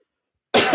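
A podcast host coughs once, sharp and close, bursting out of silence and lasting a fraction of a second.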